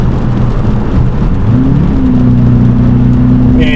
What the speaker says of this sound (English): And it downshifts so quick now.